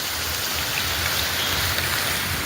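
Heavy monsoon rain in Kasaragod district pours steadily, a dense, constant roar of rainfall on surfaces with no pauses or voices.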